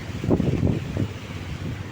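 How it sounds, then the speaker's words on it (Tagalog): Strong wind roars against the microphone at the Capitulagun plaza in a low, rumbling gust, steady and loud with no other clear sounds. "Ay hindi, kakusog sang hangin."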